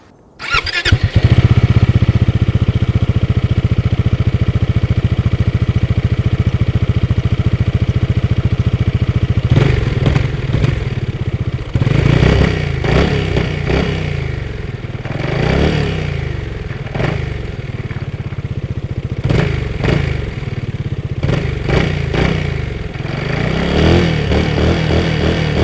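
A 2025 Zontes 368G motorcycle starts up and idles steadily, then its engine is revved repeatedly in sharp bursts with short pauses between, loud and close throughout.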